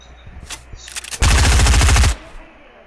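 Gunfire from the military shooter game Squad: a few scattered single shots, then a loud, close sustained automatic burst lasting about a second before cutting off.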